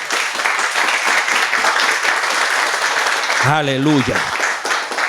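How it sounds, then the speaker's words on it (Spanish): Church congregation applause fills the space, dense and loud throughout, with a brief voice calling out over the clapping near the end. "Dale un aplauso al que vive."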